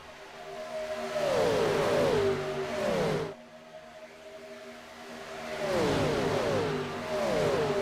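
Stock race cars in the iRacing video game at Daytona, several engines revving and shifting as a pack roars by, fading off, then another loud wave of engines sweeping past.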